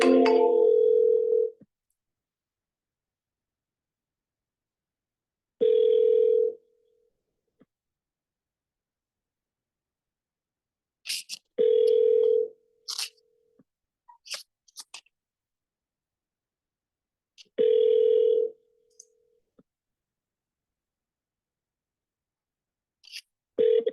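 A telephone call rings out on the line: a steady low ringback tone sounds in short bursts roughly every six seconds, with faint clicks and murmurs in the gaps.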